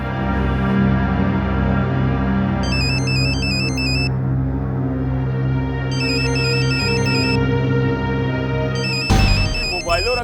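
A mobile phone ringtone plays in repeated melodic bursts over a loud, steady background of music, ringing out several times across the scene.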